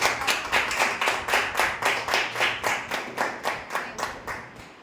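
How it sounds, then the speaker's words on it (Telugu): A group claps in rhythmic unison to thank invited friends and family at a women's empowerment business session, with steady, evenly spaced loud claps close by and no talking. "ఒక్కసారి వాళ్ళందరి కోసము గట్టి చప్పట్లతో వాళ్ళకి థ్యాంక్స్"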